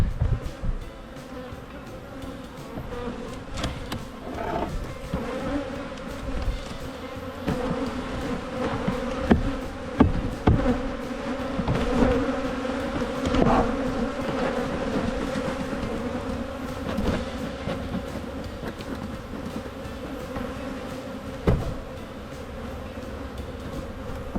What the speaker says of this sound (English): Pretty nice, healthy looking hive.